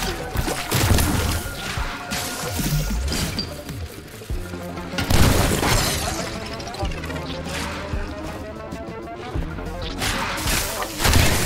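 Grenade blasts in the High On Life video game come as repeated loud crashing booms and thuds amid chaotic game effects and voices, spread over several seconds.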